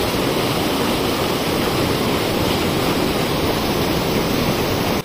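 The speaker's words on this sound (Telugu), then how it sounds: "చూడండి ఫ్రెండ్స్, అక్కడ నీళ్ళు అయితే మస్తు పోతున్నాయి కదా" Water from the Maneru river pours over a weir in a broad, constant rushing roar, steady and fairly loud throughout with no voices.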